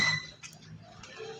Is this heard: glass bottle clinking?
yes